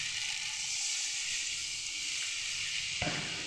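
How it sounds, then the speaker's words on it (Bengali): Steady, loud sizzling hiss from Kashmiri potato curry in a hot pan, then a sudden sharper burst near the end as water is poured in. "এবার জল দিয়ে দেবো।"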